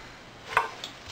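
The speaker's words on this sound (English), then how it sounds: "I'll slice each end, peel it, and then I'll cut it into small rounds for cooking." A knife cuts a vegetable into small rounds on a board, giving one faint, soft chop followed by a quieter second tap, close and alone.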